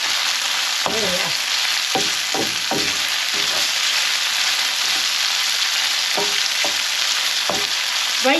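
A savoury mixture browns in a pan with a constant loud sizzle, broken by repeated scraping stirs at uneven intervals, close and without talk.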